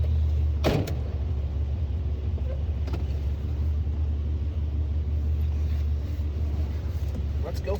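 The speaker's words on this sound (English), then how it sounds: "Let's go for a spin in the E30." A 1987 BMW 325is E30 idles and rumbles close by as it sets off, steady low engine drone with a sharp thump near the start and a few light knocks, a voice speaking briefly over it.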